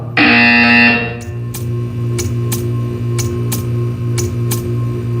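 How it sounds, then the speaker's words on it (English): A loud, harsh alarm buzzer in the video game Portal 2 sounds for about a second, then gives way to a run of sharp, evenly spaced ticks over a steady electronic hum. "You will hear a buzzer."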